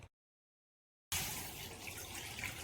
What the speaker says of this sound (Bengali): আমলকিগুলো কেন ধুচ্ছ মা?